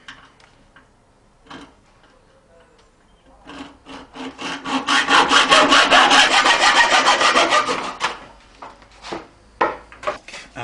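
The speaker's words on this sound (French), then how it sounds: "Et je vais donc découper la partie excédentaire." A hand saw cuts off the excess part of a drum shell in a drum-making workshop, with a few taps and clicks first, then a loud run of rapid back-and-forth rasping strokes that fades into scattered knocks.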